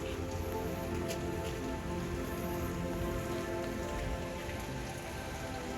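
Steady rain pours down continuously in Makkah, Saudi Arabia, a dense hiss of drops striking surfaces with occasional sharper patters, loud and close throughout.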